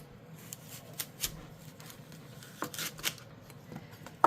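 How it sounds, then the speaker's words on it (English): A knife slicing through a fennel bulb on a cutting board for an orange and fennel salad, giving a few faint, scattered crisp cuts and taps that end in one sharper knock, with no talking. "Okay, so I'm going to cut this in half."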